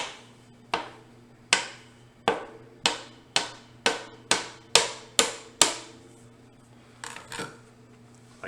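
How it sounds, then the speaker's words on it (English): A knife chops gnocchi dough into small half-inch pillows on a board, giving about a dozen sharp, close knocks at a steady pace, then a couple of softer taps. "is the cutting of the gnocchi"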